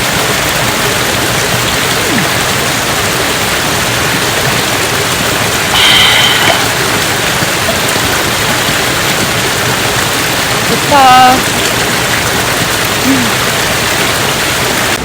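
Mountain stream water rushing steadily and loudly at a forest campsite, a dense continuous wash with a few faint bird chirps and a brief spoken word.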